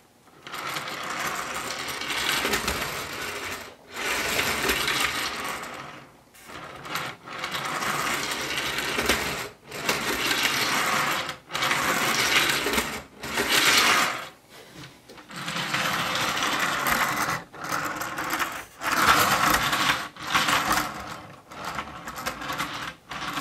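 A model InterCity 225 train with Mk 4 coaches and DVT runs on a layout, giving a continuous whirring, clattering rumble that swells and fades repeatedly as it passes, with brief gaps and no talking.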